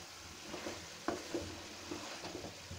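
Fried cauliflower with chopped tomatoes being stirred in a pan, a steady soft sizzle with a few light scraping clacks of the spoon against the pan, close and alone.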